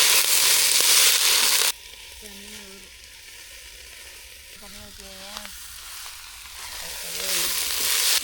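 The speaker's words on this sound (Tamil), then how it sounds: "அந்த கீரை பாருங்க எண்ணெயிலே நல்லா சுருண்டுட்டு" Spinach greens frying in oil in a pan after onions, a steady sizzle loudest at the start and end, with a few tonal clinks or beeps in the quieter middle stretch.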